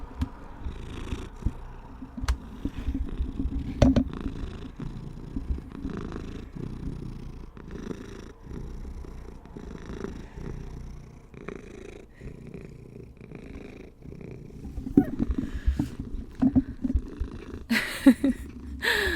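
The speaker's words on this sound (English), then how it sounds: "I thought you might want to hear his little purrs, because he purrs like that pretty much constantly" A pet cat purrs steadily right against the microphone, a low continuous rumbling with rhythmic in-and-out pulses and occasional soft snorts, close and intimate with no speech.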